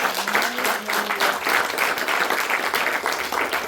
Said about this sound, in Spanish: Den un fuerte aplauso a nuestro Dios